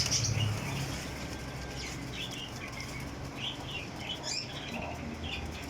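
Golden pigeons flutter and flap their wings amid a dense, steady background, with brief chirps rising now and then throughout.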